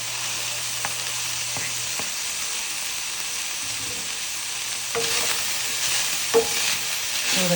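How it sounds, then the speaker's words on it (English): Garlic frying in a pan for chop suey, a steady broad sizzle throughout with a few stirring clinks and a louder burst of sizzle near the end. "So at this point, we're just gonna add our garlic."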